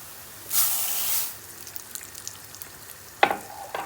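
Rice poured into a hot pan of oil bursts into a brief loud hiss and sizzle that fades within a second, followed by quieter crackling and a short clatter near the end.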